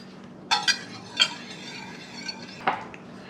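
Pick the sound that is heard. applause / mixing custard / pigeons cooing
mixing custard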